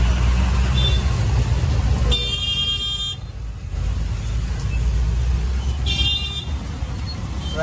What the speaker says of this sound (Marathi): ट्रॅफिक पण भरपूर झालेली आहे.